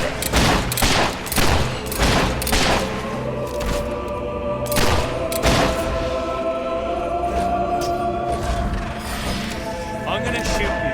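Fable 3 video game battle, dense volleys of gunfire with rapid sharp shots in clusters, plus thuds and mechanical clatter, loud and close, with game voices speaking over parts of it.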